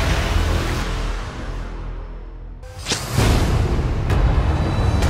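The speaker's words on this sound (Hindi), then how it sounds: "धमाका किसी भी वक्त सुनाई देगा।" Explosion effect in a crime drama series trailer: a rushing swell fades, then a sharp boom hits and gives way to a heavy low rumble, with another brief impact toward the end, and no voices.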